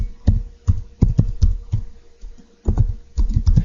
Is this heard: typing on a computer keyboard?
yes